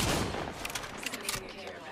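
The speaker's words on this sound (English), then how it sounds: "They're shooting at me?" Video game gunfire crackles in a dense, continuous burst of shots from a multiplayer battle, several sharp cracks standing out near the middle, loud and with a speaking voice running underneath.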